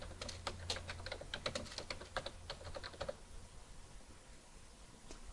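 Fingers typing on a computer keyboard, a quick run of soft, close key clicks for about three seconds before tapering to a quiet room hum.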